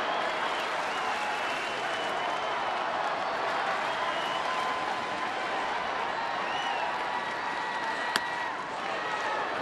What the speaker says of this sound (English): You hear the crowd getting involved.